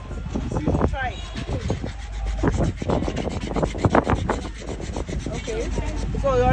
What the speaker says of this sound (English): you put something on your lap, and then you sand